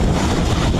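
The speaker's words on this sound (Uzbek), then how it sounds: "Suvimiz chiqdi mana." A 200-litre water pump sends out a steady, loud rush of gushing water that holds through the whole short moment.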